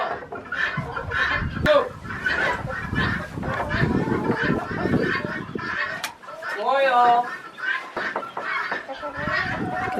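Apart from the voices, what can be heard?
chickens clucking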